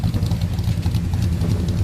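A 1965 Chevrolet Impala SS with a 396 V8 rumbles steadily nearby, a deep continuous engine drone with a slight pulsing throb, no voices over it.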